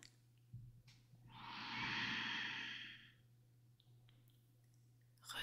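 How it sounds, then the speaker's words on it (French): A slow, deep breath drawn in close to the microphone, a broad airy inhale that swells for about two seconds and then stops as the breath is held, with a faint hum underneath. "prends une grande inspiration pour moi"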